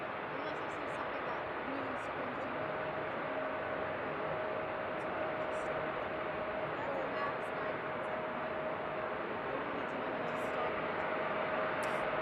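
A large transport jet landing on runway 16 right at Seattle airport gives off a steady, broad roar of engine and wind noise. The roar stays fairly even and a little distant throughout, with no gaps.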